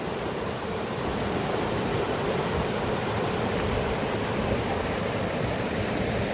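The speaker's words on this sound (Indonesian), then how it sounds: "Nah, ini kita langsung berada di pinggiran aliran sungai guys." A river stream rushes steadily beside a campsite at Mandalawangi camping ground at the foot of Mount Gede, a constant broadband wash of flowing water, close and loud, with no talking.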